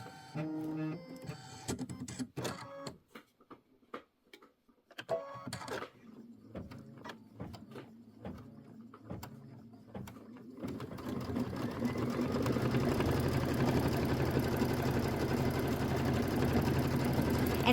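A sewing machine stitches a small trim guide stitch on a mini quilt with Magic Mint thread, first in short stop-start bursts, then in a steady continuous whir of rapid needle strokes.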